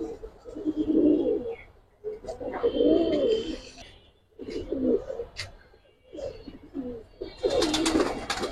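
Pigeons coo in repeated low rounded bursts with short pauses between them. These are old-lineage birds with khaki-red colouring, boot beaks and thick ceres. The cooing is close and loud, with faint chirps near the end.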